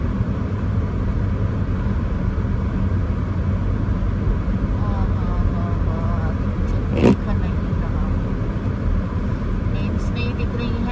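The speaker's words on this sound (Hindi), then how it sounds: "पंखे की आवाज़ बहुत ज़्यादा है।" A car's heater fan runs at full speed during a drive in a blizzard, a loud, constant broadband whoosh filling the cabin with road rumble beneath and a brief click partway through.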